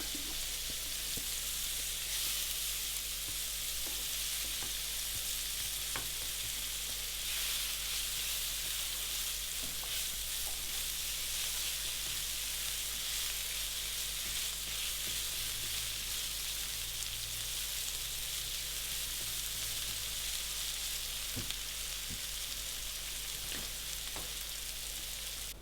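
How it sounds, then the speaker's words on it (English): Onions sizzle and fry in lard and cooking juices for a Lancashire hotpot, a dense, steady crackle close to the pan with occasional soft stirring pops, no voices. "use all that wonderful lard and cooking juices just to cook off some onions"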